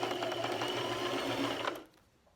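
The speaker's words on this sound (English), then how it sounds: "Okay, so I'm sewing pretty close to" A sewing machine runs fast and steady as it stitches knit fabric to elastic for a face mask, whirring close by before stopping abruptly near the end.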